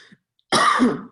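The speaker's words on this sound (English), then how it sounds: "Sorry, I have to cough." A single short, harsh cough close to the listener, preceded by a brief faint sound and silence.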